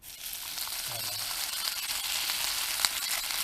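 Trout frying in a pan at a campsite, a steady bright hiss and sizzle running throughout, close and continuous.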